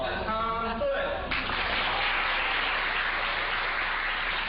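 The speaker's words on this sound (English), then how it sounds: "Let's have a big round of applause for Tom Foote." An audience breaks into applause for Tom Foote after a voice finishes speaking, the clapping rising abruptly and continuing as an even, fairly loud wash to the end.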